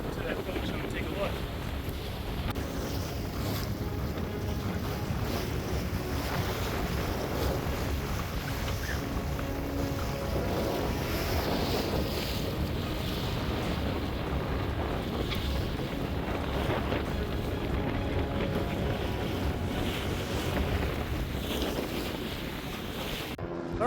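Strong wind blowing across the water in a harbor beside a Pearson 424 ketch sailboat, a constant buffeting roar with microphone wind noise, gusting steadily and loud throughout, with a voice talking at times underneath.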